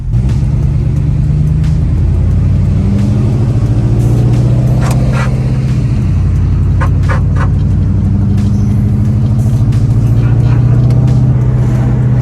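Heavy, steady rumble of a slammed Mercedes W140 cruising at about 60 on the road, a loud constant engine and road drone heard from inside the car, with a few faint clicks and rattles.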